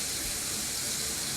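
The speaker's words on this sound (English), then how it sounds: "the type of faucet we use, you don't have to touch it. It does it automatically." An automatic touchless kitchen faucet runs in a steady, even stream, with continuous close splashing water filling the sink and no voices.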